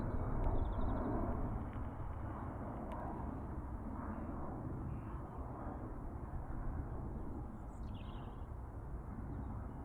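Broad low roar of an airliner, an A330 or 777, passing at Dublin Airport, heard from a distance as a steady rumble, with faint bird chirps drifting above it.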